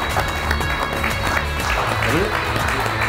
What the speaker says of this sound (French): ça mériterait une bonne main d'applaudissements pour accueillir notre prochain invité